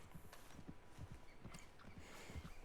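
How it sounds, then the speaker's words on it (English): Horse hooves clip-clop in Red Dead Redemption 2 as a horse approaches, a faint, steady run of soft, uneven thuds with no other sound over them. "Now let's call our horse over."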